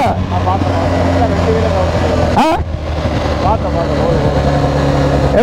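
A BMW GS 1250 Pro HP motorcycle engine drones steadily while riding, loud and close with wind noise and a brief gear-change dip midway; people talk over it.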